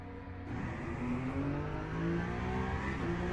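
Engine of a Peugeot race car in a Le Mans racing video game, continuous revving and accelerating drone that rises in pitch through the gears, steady and close.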